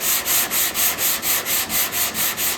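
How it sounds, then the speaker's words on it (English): Block sanding a Chevrolet C10 truck tailgate with gritty sandpaper: steady back-and-forth rasping strokes, about ten in a regular rhythm, close and loud with no talk. "And sand at the bottom"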